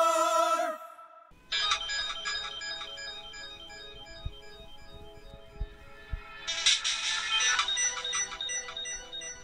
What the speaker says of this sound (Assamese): আমাৰ এওঁৰ ফোন নেকি